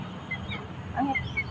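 Farmyard poultry calling outdoors, a few short honking, clucking cries rising briefly over a steady low rumble of background noise.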